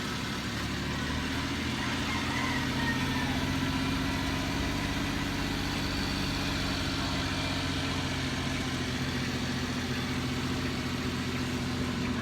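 A car engine idles steadily throughout, a constant low rumble with no talking over it, as the vehicle sits still during a conversion job.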